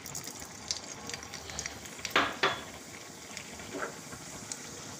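Faint crackling sizzle of mustard seeds in hot oil, with a couple of sharper bursts of spattering midway, small pops scattered throughout, no voices.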